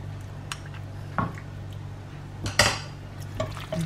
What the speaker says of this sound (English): And just give that a little mix.